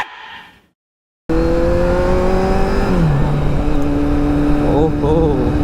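A motorcycle carrying two riders revs while pulling a wheelie, its engine droning loudly and steadily with the pitch climbing, dipping and wavering under heavy wind rush, after a brief muffled moment and a sudden cut to near silence.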